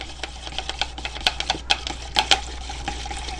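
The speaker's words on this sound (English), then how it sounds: "You have to whisk gently." Gentle whisking of water into oil for homemade foaming hand soap with essential oil and glycerin, a rapid irregular patter of soft liquid ticks and splashes, close and alone.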